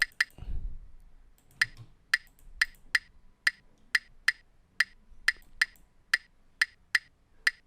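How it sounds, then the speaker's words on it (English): A wood block plays an Afrobeats percussion pattern, crisp dry clicks struck in a steady syncopated rhythm, close and clear after a brief low thump at the start. "Next up, I have the wood block. This is what the wood block sounds like."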